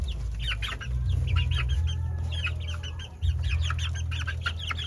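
Young White Kelso chickens, about 1.5 months old, clucking and chirping continuously nearby on a farm, with repeated overlapping calls over a low steady hum.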